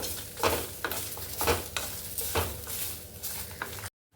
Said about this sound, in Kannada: ಕೊಬ್ಬರಿನೂ ಹಾಕಿ ಚೆನ್ನಾಗಿ ಹುರ್ಕೋಬೇಕು